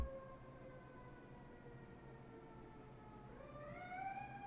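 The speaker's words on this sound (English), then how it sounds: "And can you hear that siren?" A faint siren wails from outside, a steady tone that slowly rises in pitch near the end, distant and quiet.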